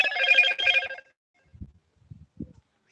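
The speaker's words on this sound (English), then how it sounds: "my phone's making funny noises" A phone ringing with a warbling electronic ring in two close bursts, loud and near, followed by a few faint soft thumps.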